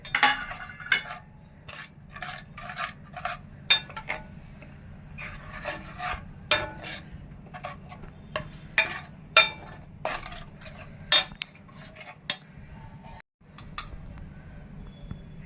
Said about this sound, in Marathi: हे आपण मिक्स करून घेऊया